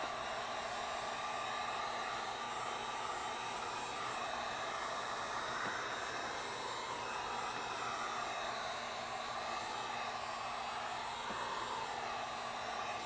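A steady, loud rush of hot air from a heat gun blowing continuously, with a constant whirring hum beneath it throughout.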